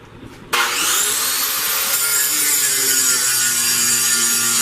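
A power grinder biting into a bone blade blank, starting abruptly after a brief quiet moment and then holding a loud, steady abrasive whine and rasp without a break.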